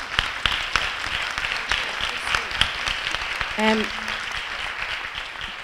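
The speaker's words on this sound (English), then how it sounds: "I think you should get a great big round of applause" An audience at a feminist art symposium breaks into a dense, sustained round of applause, with a brief voice surfacing over the clapping partway through.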